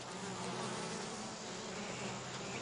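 Constant dense buzzing of bees around new hives, an even, unbroken hum that sounds close but quiet, with no voices.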